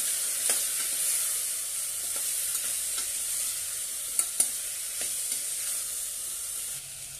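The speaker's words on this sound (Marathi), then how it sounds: "छानपैकी परतून घेऊया।" Vegetables and spices sizzle and fry in a pan for brinjal masala rice, with a spatula stirring and scraping in a few sharp clicks over a steady hiss, close and alone.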